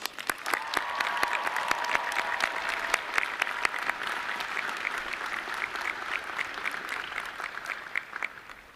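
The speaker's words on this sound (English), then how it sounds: "Let's give these amazing people a round of applause." Sustained applause from a large audience at a university spring graduation ceremony, a dense even wash of clapping that holds steady for several seconds at moderate distance, with a few sharper individual claps standing out.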